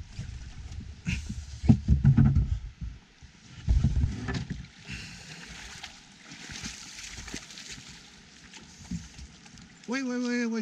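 A rowing boat moves on water during a fishing trip at Steinfossen, with sloshing and knocking of the hull, wind noise on the microphone, and a voice speaking over it near the end.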